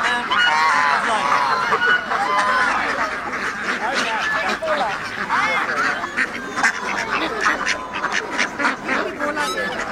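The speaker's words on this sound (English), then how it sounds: "The vineyard actually have ducks." A flock of ducks at a vineyard quacks and honks continuously, many overlapping calls close by and loud throughout.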